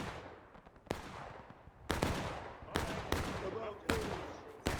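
Musket volleys in the American Civil War game War of Rights on the Bolivar Heights map, heard as several sharp, booming shots that ring out and decay across a broad battlefield.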